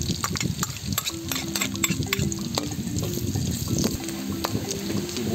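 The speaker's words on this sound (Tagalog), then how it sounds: "So ayan na mga idol, nagmamantika na. Magigisa na tayo." Garlic sautés in hot oil, giving a busy, close sizzle and crackle. Stirring, scraping and spattering sounds run through it.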